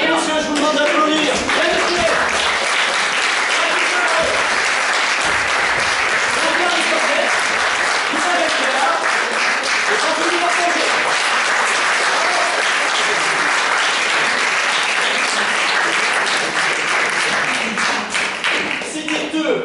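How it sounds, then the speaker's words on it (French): Dense, sustained applause from a theatre audience fills the room at a festival awards ceremony, loud and steady throughout with a few voices mixed in. "je vous demande d'applaudir"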